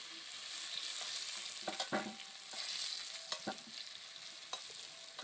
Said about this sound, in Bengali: একটু নাড়াচাড়া করে আমি আলুটাকে নামিয়ে নিচ্ছি